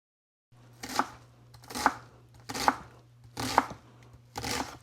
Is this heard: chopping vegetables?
yes